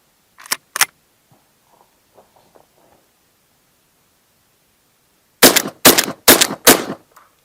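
Gunshots during shotgun testing at an Istanbul gun shop: two sharp blasts near the start, a quiet stretch of faint handling clicks, then a rapid burst of four or five loud close shots.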